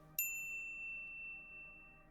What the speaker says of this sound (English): be sure to subscribe to our channel and ring the bell to get notified about our latest videos.